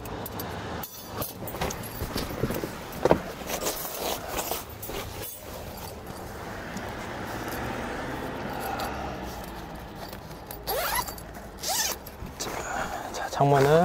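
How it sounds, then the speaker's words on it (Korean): A rooftop tent's zipper is pulled open in a few short rasping strokes near the microphone, with someone talking briefly and some handling noise around it. "지퍼를 먼저 열어주고요."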